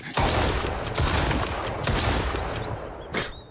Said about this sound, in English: I just shot a bunch of stuff right off the freaking shelf